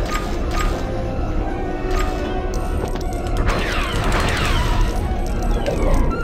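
Rapid blaster fire and crashing debris from the Lego Star Wars: The Complete Saga video game, a dense, loud barrage of repeated shots and breaking-object clatter during a Death Star escape level.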